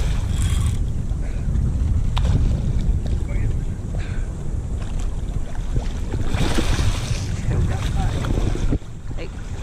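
Rough saltwater churns and sloshes around a fishing boat with gusting wind noise, loud and close, while people talk intermittently over it.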